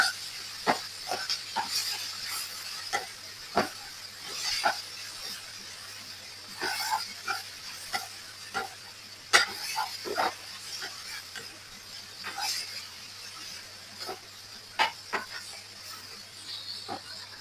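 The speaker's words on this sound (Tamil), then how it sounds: "அடுப்பை வந்து இப்ப லோவில் வச்சுக்கொண்டு நல்லா கலந்து விட்டு கொள்ளுவேன்" Asparagus stir fry being stirred in a pan over low heat, a gentle continuous hiss broken by repeated soft scrapes and clicks of the spoon against the pan, close and unaccompanied by talk.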